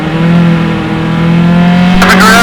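Race cars howl past on the track at Mid-Ohio during a Pro SCCA qualifying race. The engines are loud and close, with a steady drone and a sharper burst near the end.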